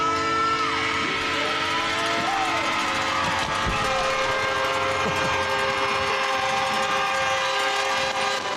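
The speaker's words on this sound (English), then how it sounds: "Get out of the way. The train is coming." A train rolls past at a high school football game between LCA and Evangel, its long sustained horn blasts layered over continuous rumble and wheel noise, loud and steady throughout with crowd murmur beneath.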